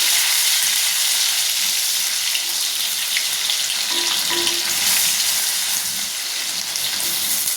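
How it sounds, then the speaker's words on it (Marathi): Ginger garlic paste sizzles steadily in a hot pan as it is stirred, a continuous close, fairly loud frying hiss with faint scraping throughout and no voices. "आलं लसूणची पेस्ट, चांगलं हलवून घेते।"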